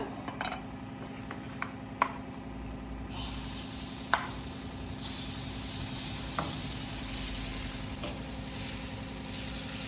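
Besan batter sizzles steadily in a hot oiled pan, with occasional sharp clinks of a utensil against the pan.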